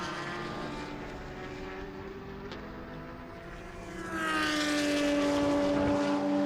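GT cars race in an ESET Cup GT Cup race at Slovakia Ring, a distant engine drone with rising and falling whine that swells louder as a car approaches near the end, without speech.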